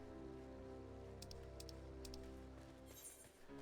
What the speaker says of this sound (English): Oh man, it's raining.